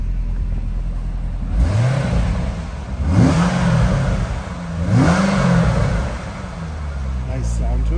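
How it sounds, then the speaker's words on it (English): A 2013 Corvette Grand Sport 60th Anniversary coupe idles with its NPP exhaust ports closed, blipped three times into rising revs that fall back to a steady rumble, close and loud. "Nice sound to it. So that's with the NPP exhaust ports closed."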